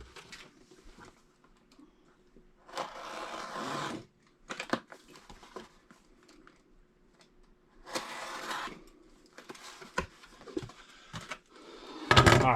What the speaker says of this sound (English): I'm going to cut this down on the top a little bit